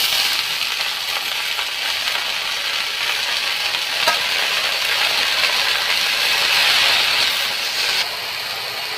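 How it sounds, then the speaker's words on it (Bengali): Mera greens fry with onion and garlic in a pan, giving a loud, continuous close sizzle with occasional scraping stirs and no voices. "আমার এখন শাক ভাজা হয়ে গেছে"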